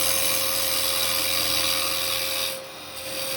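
Wood lathe spinning while carbide chisels turn a small lidded Japanese box, a steady loud hum and hiss of cutting that eases off near the end.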